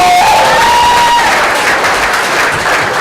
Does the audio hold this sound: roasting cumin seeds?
no